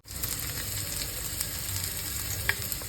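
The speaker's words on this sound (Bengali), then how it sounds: "আমি কি কি ফোড়নে দিচ্ছি তোমার দুটো শুকনো লঙ্কা দুটো তেজপাতা কয়েকটা পাঁচ ফোড়ন" Dried red chilies, bay leaves and five-spice seeds sizzle in hot oil, a steady close crackle with faint stirring and a couple of sharper pops, no voices.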